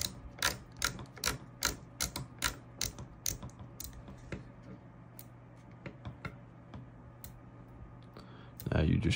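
A Scalarworks quick detach optic mount being tightened onto a rifle rail, with a series of sharp ratcheting clicks, about a dozen close and evenly paced, then sparser ones and a louder rustle at the end.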